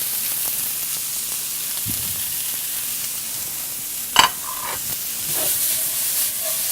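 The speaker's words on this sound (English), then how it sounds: "We're gonna saute that off. Whoops, the onions and the peppers." Onions and peppers sauté in a pan with a steady soft hiss, broken by a single sharp utensil clank partway through and a brief scrape afterward.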